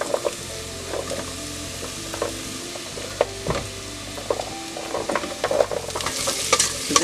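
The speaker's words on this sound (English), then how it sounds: "I'm going to put the carrots first because they're going to take the longest to cook." Carrots dropped into a cooking pot and stirred, with soft scraping, clattering and faint sizzling in a close, steady run and no talk.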